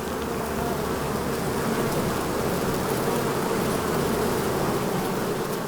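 Dense, steady buzzing of many bees, a loud continuous swarm-like drone with no pauses.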